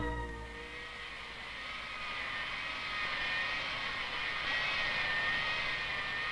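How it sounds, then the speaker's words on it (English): Big jet airplanes near an airport, a steady loud roar of jet engines with a rising whine that swells gradually, heard close, with no speech. "But I'm more interested in the big jets."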